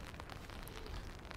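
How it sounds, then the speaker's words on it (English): Rain patters steadily on an umbrella held by someone walking in calm, windless weather on Guernsey, a soft, even hiss of drops heard close overhead with no voices. "I quite enjoy walking in the rain."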